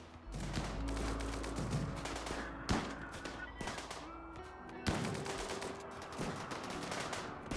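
Mortar blasts and bursts of gunfire in a Rimworld colony battle at a lakeside shack, with dense rattling shots over a continuous low rumble and two sharp, heavier impacts standing out.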